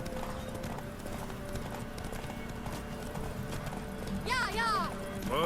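A horse in The Witcher 3 gallops with rapid, steady clip-clop hoofbeats under a low game backdrop, then gives a shrill whinny near the end as a voice talks over it.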